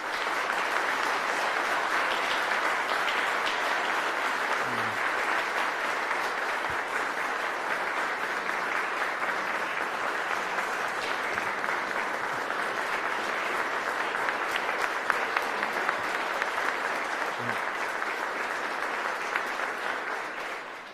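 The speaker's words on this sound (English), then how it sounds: "Please recognize Sue and give her a round of applause" Sustained audience applause at a county executive budget address honoring a retiring community worker, a thick, even roar of many hands clapping that carries on steadily for about twenty seconds before tapering at the end.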